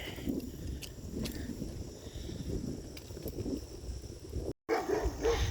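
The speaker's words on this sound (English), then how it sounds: "I'm being barked at." A dog barks at a walker on a suburban trail on the Minneapolis to Farmington route, a few faint, scattered barks off at a distance under steady wind and outdoor noise, with a brief dropout near the end.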